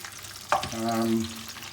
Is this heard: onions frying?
yes